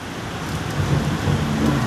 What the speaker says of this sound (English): hopefully this rain doesn't fucking start coming down too heavy